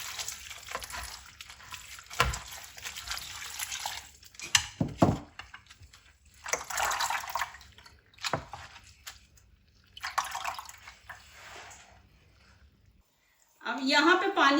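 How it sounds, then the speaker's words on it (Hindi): Potatoes are swished and rubbed by hand in a bowl of water, with intermittent splashing, squishing and dripping bursts close by, separated by quiet pauses and ending in a louder clatter. "अब इनको 2 पानी से हम धो लेंगे।"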